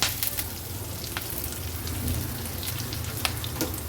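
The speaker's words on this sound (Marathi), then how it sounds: "चमचाभर मी पांढरे तीळ घालते फोडणीला. व्यवस्थित ही फोडणी मिक्स करून घेऊया." White sesame seeds and spices sizzle in hot oil for a Maharashtrian tadka, a steady close crackle with scattered sharper pops throughout. No speech.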